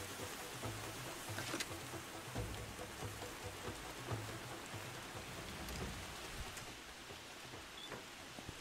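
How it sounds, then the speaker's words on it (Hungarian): Steady rain in the video game Far Cry 2, a dense, continuous hiss of drops falling on surfaces, evenly loud throughout with no voices over it. "ha eláll az eső egy óra alvástól."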